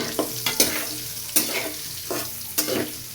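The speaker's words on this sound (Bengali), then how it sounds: "এবার এগুলো ভালো করে ভেজে নেব।" Soybean chunks with turmeric frying in a pan, a loud close sizzle broken by several sharp stirring scrapes at an uneven rhythm.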